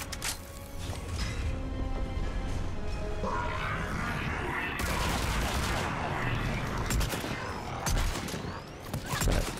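Repeated gunfire rattles during a Mass Effect 3 battle, sharp shots spaced irregularly over mechanical combat noise and a dense roar midway, with voices speaking in the mix.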